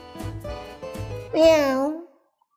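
A voice mimics a cat, drawing out a wavering meow after a few short voiced sounds, close and clear, then silence.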